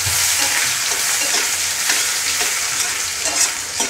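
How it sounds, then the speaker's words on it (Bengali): Sliced onions fry for mutton curry in a pan, giving a loud, steady, close sizzle with occasional stirring scrapes throughout. "পেঁয়াজটাকে আমি একটু ব্রাউন কালার করে ভেজে নেব।"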